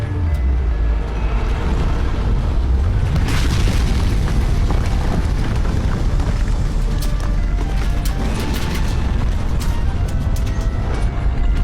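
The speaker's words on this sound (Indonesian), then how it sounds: "terdengar suara dentuman yang sangat keras, disertai dengan guncangan yang dahsyat." A tremendous boom as a mountain top crashes to the ground, a loud, sustained rumbling roar with heavy low-end shaking that swells and continues without pause, no voices heard.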